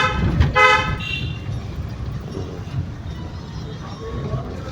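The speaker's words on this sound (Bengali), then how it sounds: "দেখো, হর্ন বাজাও।" A car horn toots briefly near the start while driving along a narrow, bumpy lane toward an alley mouth, over steady road and engine noise, with a voice talking through it.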